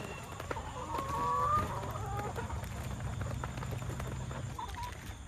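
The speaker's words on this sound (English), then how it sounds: "look, these little chickens, they're working on them a head of cabbage" Chickens cluck and call close by in a farmyard on a rainy day, pecking at a head of cabbage, their soft clucks scattered over a constant hiss of rain.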